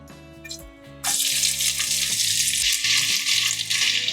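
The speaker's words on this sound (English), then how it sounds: "I'm going to add the sliced onions." Sliced onions drop into medium-hot oil for Goan pork vindaloo, and a loud, dense sizzle bursts in suddenly and keeps crackling steadily. Soft background music plays under it.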